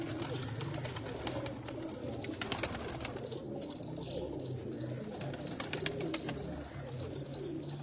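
Pigeons coo steadily on a rooftop in Chak Jhamra, Faisalabad, with overlapping low calls and some brighter chirps throughout, fairly close and continuous, with a faint murmur of voices underneath.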